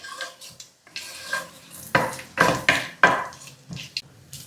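Whole spices, cardamom, cinnamon, cloves and a bay leaf, sizzle in hot oil while a spoon scrapes and clinks around the pan in irregular strokes, the frying crackle steady underneath, no voices.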